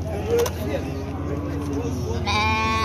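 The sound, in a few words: sheep bleating at a livestock market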